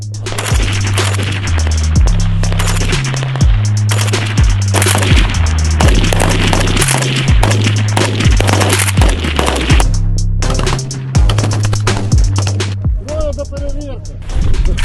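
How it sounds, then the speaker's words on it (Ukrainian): Loud, rapid gunfire cracks in dense volleys at a military shooting range, close by, over a steady low tonal pattern, with occasional voices between shots. "привчався до звуків, звуків пострілів"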